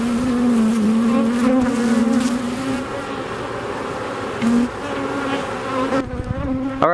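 Honeybees buzzing around a beehive, a dense close droning hum with shifting pitch as individual bees pass near, steady throughout with no talk.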